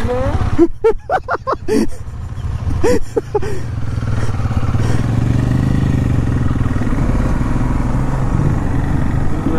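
A KTM 390 Adventure motorcycle rides along with a steady mid-pitched engine drone, after a few sharp clattering knocks near the start; a voice talks over the first seconds.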